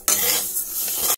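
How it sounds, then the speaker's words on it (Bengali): Mung dal fries in a pan while a utensil stirs and scrapes through it, a bright continuous sizzling rasp of about a second, close and loud with no talking. "আর এদিকে মুগ ডাল ভাজছি"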